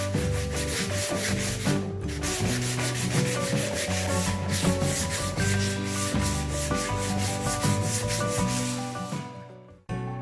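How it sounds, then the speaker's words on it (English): Wooden boards sanded by hand with 220 grit sandpaper, close and steady, a dense scratchy rubbing that runs continuously with brief pauses and no voices. "220 grit sandpaper."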